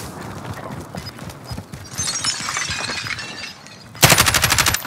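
Video game gunfire bursts out in rapid automatic rattles amid busy in-game noise, a dense loud volley arriving near the end after a stretch of rumbling action.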